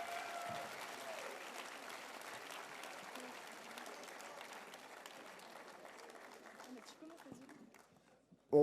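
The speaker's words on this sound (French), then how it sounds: "On peut les applaudir bien fort," Audience at a gala show applauding after a rock dance performance, sustained crowd clapping that gradually thins and fades, ending in a brief loud burst.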